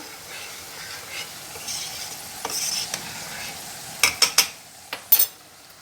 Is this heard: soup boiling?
yes